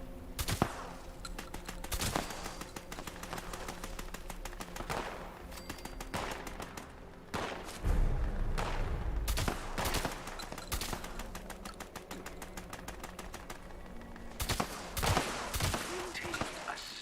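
Gunfire in the video game Fallout 76, with repeated loud shots and bursts across the whole stretch, some rapid and overlapping, over steady in-game background noise.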